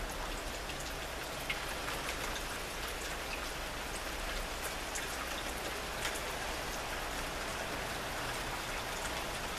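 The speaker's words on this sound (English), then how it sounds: "So occasional rain." Rain falling from the trailing part of a storm, a soft, even patter of drops on surfaces with occasional distinct nearby taps, steady and fairly faint, with no voices.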